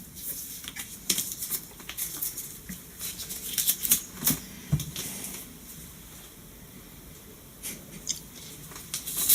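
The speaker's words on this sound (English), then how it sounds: "So the iodine prep pad was just pulled out of the box." An iodine prep pad being pulled from its box, a string of light papery rustles, taps and crinkles, close and fairly quiet, with a short lull midway.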